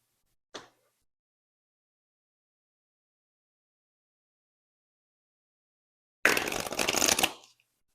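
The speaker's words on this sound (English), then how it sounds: "let's get some oracle cards out now" A deck of oracle cards being shuffled up close: a brief card snap, then after a pause a single loud riffle shuffle about a second long, alone in near silence.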